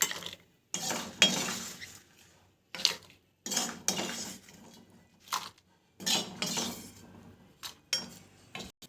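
Cooked food for gongura pachadi scraped from a pan into a bowl, bursts of close metallic clinks and scrapes of utensils against cookware, separated by short silent gaps.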